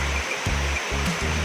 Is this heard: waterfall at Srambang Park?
yes